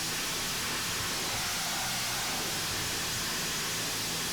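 Ryobi pressure washer with a zero-degree nozzle blasting a car grill, giving a steady, loud, close roaring hiss of spray that fills the whole stretch without a break.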